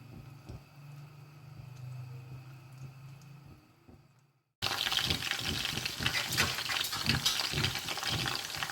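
Mutton kebab patties frying in a pan, a quiet stretch before a sudden loud, dense sizzle with crackling pops that holds steady to the end.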